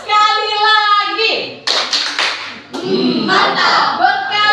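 Schoolchildren clap together in a classroom ice-breaking game, with several quick, close claps set among the teacher's speech and the class chanting back.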